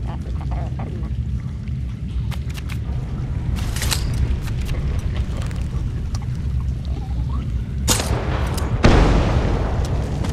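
Explosive barrels in the video game Thief go off as sharp booms and crackling blasts, scattered over a busy background of game ambience, with a big burst near the end.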